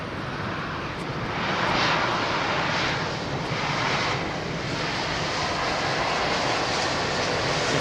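A Boeing 737-800 airliner passes at Heathrow, a dense, steady jet roar with a slight swell near the start and a broad hiss that holds without talk.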